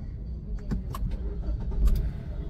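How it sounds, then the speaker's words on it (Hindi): A Hyundai i20 Active engine starts and idles close by, a low steady rumble with a few sharp clicks and taps on top, no voices. "देखा गाड़ी स्टार्ट हो गई"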